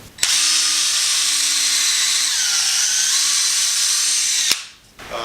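Table saw rips through warped 4x4 lumber, a loud, sustained high whine lasting about four seconds before it cuts off sharply, then a brief quieter tail.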